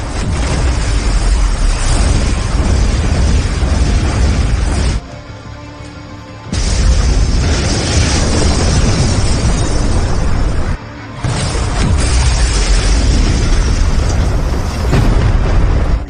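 Heavy booming crashes and roaring fire-like rumble from a TV drama scene of lightning striking an administration building and setting it ablaze, loud and sustained with two brief quieter gaps.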